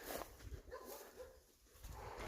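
Dogs bark with a few sharp yelps and woofs inside a ruined Catholic church in a small Podillia village, moderately close and spread across the stretch amid echoing background noise.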